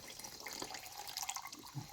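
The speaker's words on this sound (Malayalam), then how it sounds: "നമ്മൾ വെള്ളം ഒഴിക്കുന്നു" Water is poured from above into a vessel holding honey, a short steady trickling splash close by with light drips, no talk.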